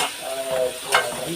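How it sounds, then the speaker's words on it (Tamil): Onions stir-fried in a pan for a home-cooked Tamil meal give off a steady loud sizzle with scraping stirring strokes, close up and without talk. "வெங்காயம் நல்லா வதக்கிடுங்க."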